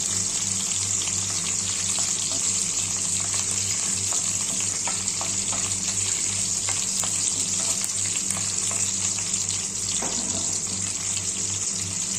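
Curry leaves fry in hot oil for a green chicken dish, giving a steady, close, dense sizzle with scattered crackles and a low hum, with no talk throughout.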